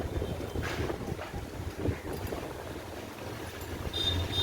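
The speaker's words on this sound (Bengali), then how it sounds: "হাওয়া দিয়েছে, প্রচুর হাওয়া দিয়েছে। এদিকটা খুব হাওয়া।" Strong wind gusting outdoors in rain, a steady broad rumble of wind buffeting the microphone throughout, loud and close with no speech.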